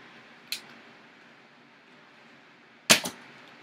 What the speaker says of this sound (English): Now I'm firing some AccuStrike darts